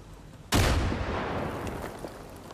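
A single grenade in Far Cry 5 detonates with a sudden, loud blast, then a long rumbling decay fades out over the next two seconds.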